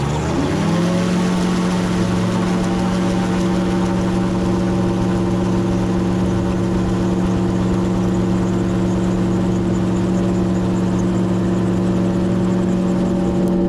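Gyrocopter engine on a takeoff run, rising quickly in pitch during the first second and then holding a loud, steady drone at full power to the end, with no talk over it.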